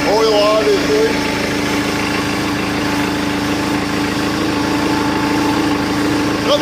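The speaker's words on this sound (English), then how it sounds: "That's hydraulic pump" A plow truck's engine idles steadily with its hydraulic pump running, a continuous mechanical hum and whine throughout, while a voice talks over it at the start.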